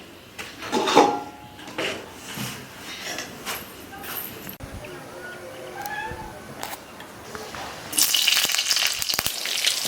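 Chickpea ghugni frying in a pan in a home kitchen gives a continuous sizzle with occasional stirring clatter, and the sizzle grows louder and brighter toward the end.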